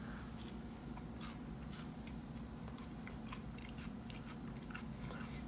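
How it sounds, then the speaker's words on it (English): Crunchy Cookies N Creme Rice Krispies treat chewed close to the mic, with a steady stream of crackly bites and snapping crunches over a low background rumble and no talking. "there's a good amount of snap and crackle from the Rice Krispie treat itself"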